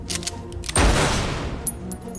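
In an audio drama, several guns fire at once at an angry Kodiak bear: a sudden loud, crackling volley that rolls on for over a second, with sharp shots before and after it.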